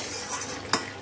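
Over a soft sizzle of half-cooked meat stewing in its own juices, a lid is set onto the pot with a single quick metallic clank near the end of a very short moment.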